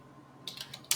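Keystrokes on a computer keyboard while entering a command in a terminal: a few quick taps in the second half, ending in a louder cluster of clicks, close and alone over quiet background.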